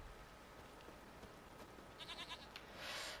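A goat bleats inside The Witcher 3: Wild Hunt, a few short wavering calls over steady background game ambience with no talking.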